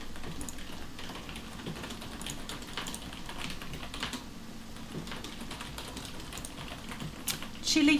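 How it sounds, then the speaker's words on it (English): Rapid, furious typing on a computer keyboard clatters steadily and close throughout, dense irregular key clicks with a faint background hum and a louder burst near the end. "The furious typing sounds, you hear them, huh?"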